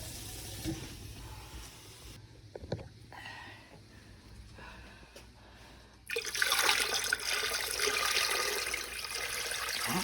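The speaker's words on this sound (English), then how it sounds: "You need to fill the water all the way up over the top of the jars." Running water pours steadily into a canning pot, starting modest and then surging into a louder, fuller rush partway through, close by with no talking.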